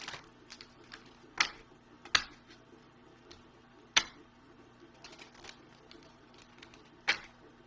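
Tarot cards being shuffled by hand, a quiet series of soft riffling clicks and sharper snaps spaced irregularly over a faint low hum, close and gentle.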